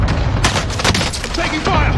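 Rapid gunfire and booming blasts crackle in a dense volley in Call of Duty Warzone gameplay, loud and close, with a voice speaking over it.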